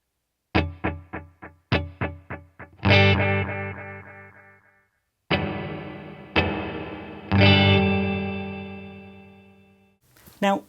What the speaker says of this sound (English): a reverb pedal offers a much more ambient, kind of washy effect with no real note definition